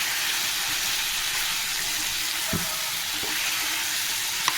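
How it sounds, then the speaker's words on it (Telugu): Chicken curry with tender tamarind leaves, garam masala and a pinch of turmeric is stirred in the pan, a steady close sizzle broken by a couple of soft spoon knocks and no voices. "కొద్దిగా పసుపు వేసుకుని ఒకసారి కలుపుకోవాలి."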